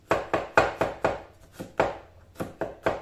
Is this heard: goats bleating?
no